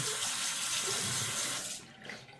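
Tap water runs steadily into a bathroom sink while a man wets his face before a double-edge razor shave, a close, continuous splashing hiss that cuts off near the end.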